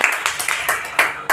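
A group of people claps hands in a quick, fairly even rhythm of sharp claps, close and loud, lasting just over a second.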